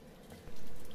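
Water is poured over cut bitter gourd to wash it in a home kitchen. A steady splash of running water starts midway and continues close and fairly loud, with no talking.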